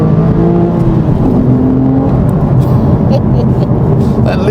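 Sports car, an Aston Martin Vantage S or Porsche 997 C2S, pulls hard in second gear, a loud, steady engine roar filling the clip with a deep exhaust boom, no talking over it.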